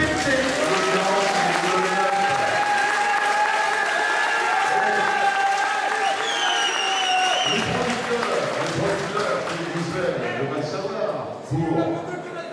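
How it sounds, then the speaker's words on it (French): An audience at a Miss Sud Loire 2011 beauty pageant claps and cheers continuously over loud music, the applause sustained throughout before thinning slightly toward the end. "je vous demande d'applaudir Geneviève de Fontenay"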